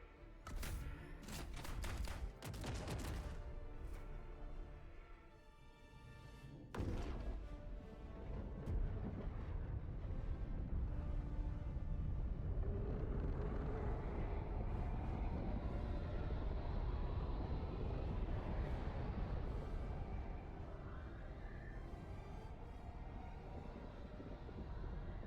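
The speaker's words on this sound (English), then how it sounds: "maybe a strafing run or something" Aircraft strafing run with gunfire in a video game. A quiet, dense burst of rapid impacts opens it, then the sound gives way to a long, rushing roar that swells and fades.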